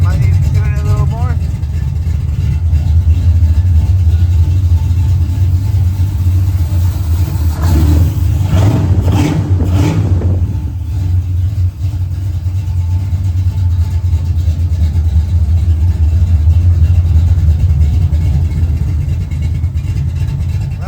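A Z28 car engine idles loudly and close with a deep, lumpy rumble, revs up in a burst around the middle, then settles back to a steady idle.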